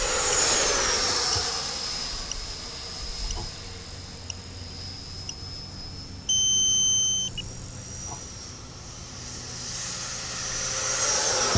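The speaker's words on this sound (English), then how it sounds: "my timers went off" A flight timer's beeping alarm sounds over the loud whine of an Arrows RC 64mm Marlin electric ducted-fan jet model passing overhead, the tone steady for about a second near the middle.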